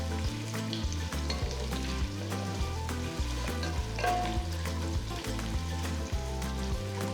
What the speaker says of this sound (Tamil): ரெண்டு நீல வாக்கில் நறுக்கின பெரிய வெங்காயம், கீர்ன 3 பச்சை மிளகாய் சேர்த்து வெங்காயம் நல்லா பொன்னிறமாக வர வரைக்கும் வதக்குங்க.